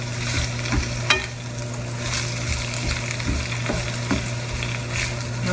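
Shrimp sizzles steadily in a frying pan for a weekday burrito bowl, a continuous close hiss with occasional stirring scrapes and a low background hum, no voices.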